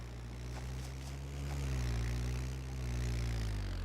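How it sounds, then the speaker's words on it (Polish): Vehicle engine running in the video game DayZ, a steady low droning rumble that swells and eases slightly as it continues, moderately near with no talk. "Motor."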